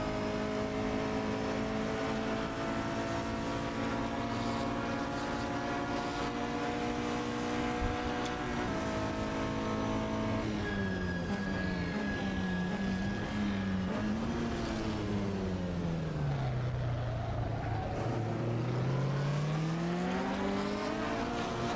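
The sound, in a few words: Porsche race car engine in racing video game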